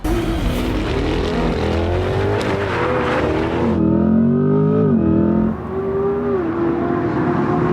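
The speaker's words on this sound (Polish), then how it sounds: "Silnik spalinowy jest montowany centralnie, bo to jest to ta nowa korwetta e, C8." A Corvette E-Ray C8 hybrid with a mid-mounted combustion engine, driven in Forza Horizon 5, revs loudly and climbs through gears with rising engine pitch, shifts, and brief tire squeal, close and continuous.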